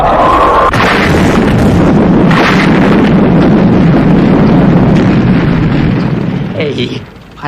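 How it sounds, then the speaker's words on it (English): Missiles fired to blast a nose cone clear, a loud, sustained rumbling explosion with a roaring, wind-like wash that holds for about six seconds before dropping away at the end. "You've got to get that nose cone clear by firing the missiles."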